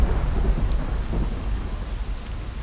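Heavy rain pours steadily while deep thunder rumbles close by, a dense wash of drops over low rolling booms with no talking.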